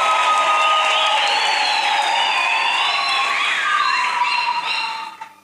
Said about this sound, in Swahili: tumshukuru Mwenyezi Mungu kwa makofi na vigelegele kwa zawadi ya siku hiyo